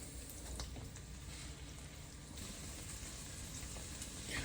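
Chicken crumbles fry over medium-high heat in a pan, a steady close sizzle and crackle that holds evenly for the whole stretch, with no talking.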